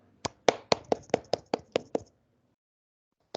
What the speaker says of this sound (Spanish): les pido el favor de que les demos un fuerte aplauso por esta presentación